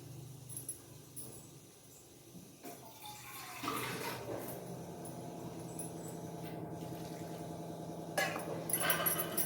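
Water poured into a pot of mixed vegetables being cooked for avial, a steady running, splashing pour that builds and grows louder toward the end, heard alone in a kitchen.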